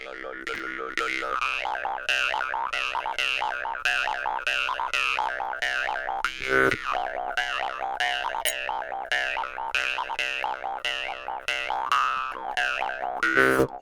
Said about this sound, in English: it sounds pretty nice on the Jaw Harp